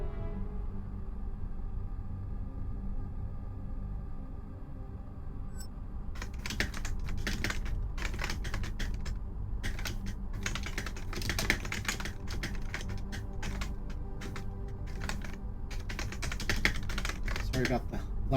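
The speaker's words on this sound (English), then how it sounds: "Sorry about the loud keyboard." A non-mechanical computer keyboard is typed loudly during a PC session of Solasta, with bursts of rapid, clattering keystrokes over a constant low background hum. The typing starts about a third of the way in and continues in uneven runs to the end.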